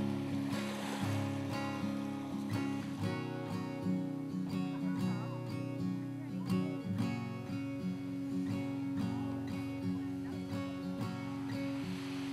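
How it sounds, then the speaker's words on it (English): Steady wash of waves and surf at Avon Beach in Dorset, with wind buffeting the microphone, heard fairly faint from the shore and continuous throughout. "And here we are at Avon Beach"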